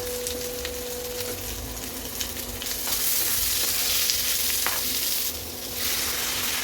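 Steamed olives are stirred in a pan with turmeric, chili powder and salt, producing a continuous hissing sizzle that grows louder midway, with scraping and tapping strokes from the stirring.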